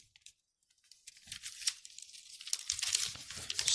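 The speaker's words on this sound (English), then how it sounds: "Can't be this hard to open up one envelope" A paper envelope of mail is torn open slowly, starting quiet and building into close, crinkly rips and rustling that grow louder and more continuous.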